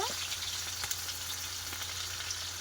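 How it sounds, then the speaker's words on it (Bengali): Chopped onion followed by garlic frying in oil for a poultry chicken curry, a bright, continuous sizzle with a few light stirring clicks, close and moderately quiet. "প্রথমেই দিয়ে দেব পেঁয়াজ কুচি তারপরে দিয়ে দেব রসুন"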